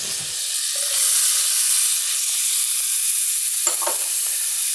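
Minced onion sizzles steadily in a hot pan for a dish of Brussels sprouts gratin with Gruyere, a loud continuous frying hiss with a brief stir or scrape near the end and no talking.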